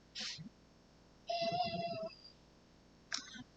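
A house cat gives one clear, drawn-out meow, quiet and close, with short soft sounds just before and after it.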